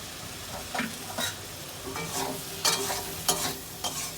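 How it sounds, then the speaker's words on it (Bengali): Boiled mussels fry in a hot pan with a low, steady sizzle, punctuated by about half a dozen scraping stirs of a spatula at uneven intervals. "এবার আমরা সেদ্ধ রাখা ঝিনুকটা দিয়ে দিচ্ছি"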